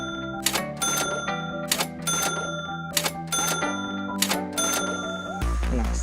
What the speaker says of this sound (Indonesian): di sini aku menggunakan mechanical keyboard dari Corsair K70 RGB seri MX